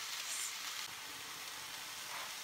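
Food sizzles in a hot frying pan, a steady broadband hiss of frying with faint crackle throughout, no voices over it.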